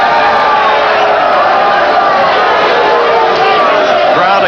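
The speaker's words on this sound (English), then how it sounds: "Crowd accuses Valdez, through its boos, of hitting low." A boxing crowd at a world junior lightweight fight boos loudly and continuously, a dense wall of voices filling the whole arena.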